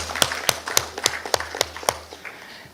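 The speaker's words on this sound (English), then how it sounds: "big round of applause" A conference audience applauds at a programmatic marketing summit, with about eight sharp, fairly close clap peaks in a steady rhythm over a constant low hum, fading toward the end.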